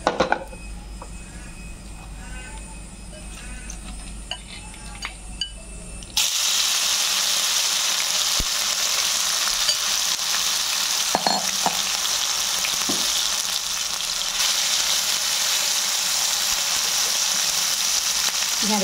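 Marinated okra fries in a little oil in a wok: a quieter stretch gives way to a loud, steady, close sizzle that keeps going to the end.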